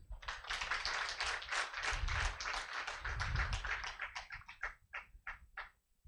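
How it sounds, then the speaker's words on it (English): Audience applause welcoming Professor Ben Twinomugisha to speak at a student orientation day at Ahaki Institute, dense steady clapping from a room of people that thins into scattered individual claps before dying away. "I feel that's not enough applause."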